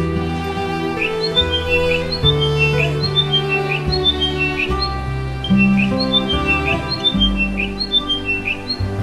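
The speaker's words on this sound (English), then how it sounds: "A pair of diamond doves and a thornbill that looked like it was getting ready to nest." Diamond doves and a thornbill calling in the Alice Springs desert, repeated high chirps and squawky whistles over a dense, steady layer of tonal background sound, fairly loud throughout.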